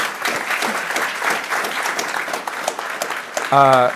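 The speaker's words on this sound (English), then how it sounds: "We can give a big round of applause for our panelists on stage." An audience at a MozFest 2019 panel on governing AI gives a round of applause to the panelists on stage, a steady wash of clapping that ends as a voice begins speaking over it.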